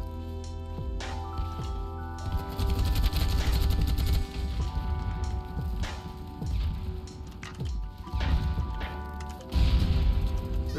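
Rapid gunfire in the shooter game Battlebit Remastered, repeated bursts and single shots at close and middle range over a busy, tonal game background, continuing throughout.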